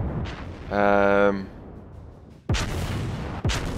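Heavy naval gun salvos from a New Mexico battleship in World of Warships: a sustained roaring blast, then two sharp, loud booms a second apart, with a brief voice under the first rumble.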